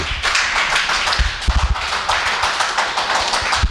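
A church congregation bursts into applause, many hands clapping at once in a dense, sustained patter that runs loud and close throughout, with a few heavier claps standing out.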